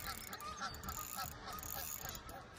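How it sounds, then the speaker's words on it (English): Geese honk repeatedly at a waterside carp-fishing spot, a busy overlapping flock call running continuously through a steady outdoor background with faint wind. "Bloody geese"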